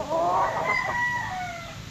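A Sweater gamefowl stag crows once, close and loud, a single drawn-out cock-a-doodle-doo that rises and then trails off over about two seconds, with no voices present.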